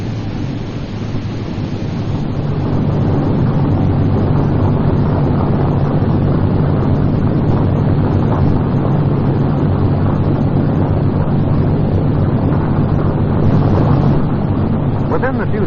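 B-17 aircraft engine running at full power, a loud, steady, unbroken roar with heavy low rumble that holds for about fifteen seconds under a narrator's voice, with a dull early-film sound.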